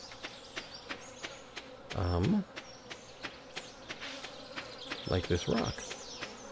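Bees in the video game Stardew Valley buzz in a soft, steady hum with repeated small clicks, while a person talks briefly over it.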